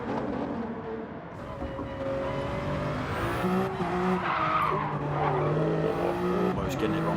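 A radio-controlled race car skids and squeals through sharp 90-degree corners on a tight track, its whining motor continuous and fairly loud for the whole stretch, with tire screeches rising and falling and a voice talking over it.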